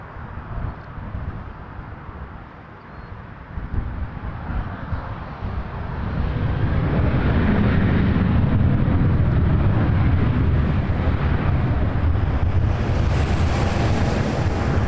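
Airliner at Toronto Pearson taking off from runway 06 left, a broad roar of jet engines swelling as thrust builds and holding steady and loud, with wind buffeting.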